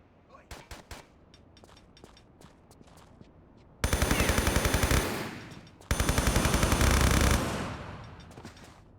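Automatic gunfire from a submachine gun in Tomb Raider III, starting with a few scattered single shots and then two loud, rapid sustained bursts of near, fast-rattling fire separated by a brief pause.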